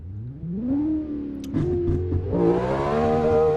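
A BMW E92 M3 engine in the racing game Assetto Corsa revs up in rising pulls, dipping briefly between gear changes before climbing again to a loud, sustained whine.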